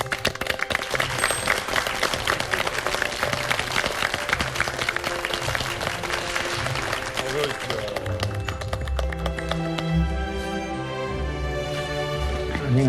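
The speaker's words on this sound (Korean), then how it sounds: "여러분 박수로 맞이해 주십시오." Studio audience applause welcoming guests onto a Korean TV talk show set, dense continuous clapping with music playing underneath and a voice heard briefly.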